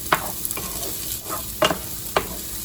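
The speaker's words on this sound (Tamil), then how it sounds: "நிறைய நேரம் வதக்கணும்னு அவசியம் கிடையாது, லைட்டாக வதக்கினா போதும்." Masala ingredients for paneer butter masala are sautéed lightly in a pan, giving a soft steady sizzle broken by several distinct spatula scrapes and stirs at close range, with no one speaking.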